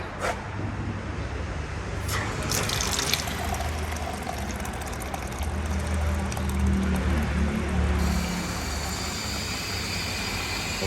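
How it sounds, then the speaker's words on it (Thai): Water runs steadily into a container of car wash solution being mixed for washing a matte-painted Volkswagen Beetle, a loud continuous splashing fill close by that lasts throughout without talk. "เติมน้ำเข้าไป"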